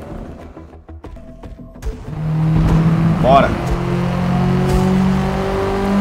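A tuned Subaru in a Forza racing game revs up, then its engine drones steadily and loudly at high speed. Someone talks briefly over the engine at the start.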